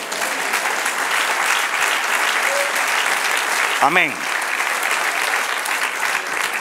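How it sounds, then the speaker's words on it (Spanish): Steady applause from a large church congregation fills the whole stretch, with a single voice calling out briefly in the middle. "Dale un aplauso al Señor."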